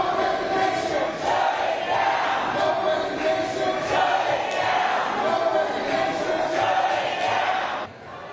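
Protesters at a Los Angeles City Council meeting in City Hall shout and chant loudly together, a continuous roar of raised voices echoing in the chamber that drops slightly at the end.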